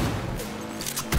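Gunfire in the Cyberpunk 2077 video game, a quick volley of loud close shots and impacts within a dense game mix, ending with a heavier blast.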